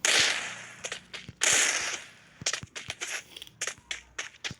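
Sharp, punchy shots from the M188 gun in the Free Fire video game, fired in several quick bursts with short gaps between them, close and loud, with no talking.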